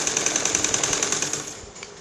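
A sewing machine runs steadily while stitching the piping on a blouse, its needle thumping in a fast even rhythm close up, then slowing as the run winds down.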